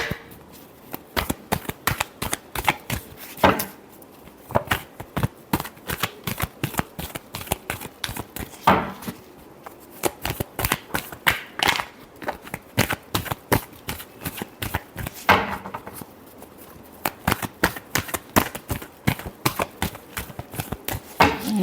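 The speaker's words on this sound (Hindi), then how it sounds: "Last shuffle." Tarot cards shuffled by hand in rapid bursts of crisp, papery riffles and taps, close and fairly quiet, continuing with brief pauses throughout.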